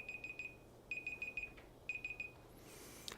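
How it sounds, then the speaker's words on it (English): An electronic alarm beeps in quick clusters of four sharp, high tones, repeating at a steady pace, faint and distant under a low background hum. "Oh, that's an alarm going off."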